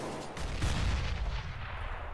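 A grenade blast in the game Counter-Strike: Global Offensive, a loud, sustained low rumble with crackling debris rolling through the whole moment, no voices over it.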